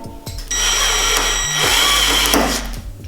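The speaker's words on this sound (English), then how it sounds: "Oh, that was my drill bit. That literally just shattered." Power drill boring out a rivet on a widebody car until the drill bit shatters: a loud, close, continuous high-pitched grinding whine with a brief shift in pitch midway, heard alone.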